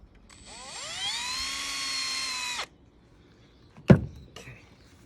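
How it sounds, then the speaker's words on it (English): A power drill whirs steadily for about two seconds as it drills out silicone on bathroom tile during a tile hook install, then stops, followed by a sharp knock and faint handling clatter, close and loud. "And then let me go ahead and drill out the silicone."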